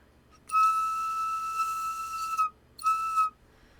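A 3D-printed pipe from a pandraulis water organ sounds a steady, thin whistle-like tone for about two seconds, falls silent, then gives a second shorter blow, fairly quiet and alone.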